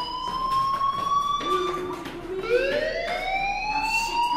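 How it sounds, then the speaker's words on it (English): An electronic fire alarm wails in the video game Life is Strange, a steady high tone that slides and shifts in pitch over a few seconds, fairly loud and continuous with no talk. "do you hear that fire alarm?"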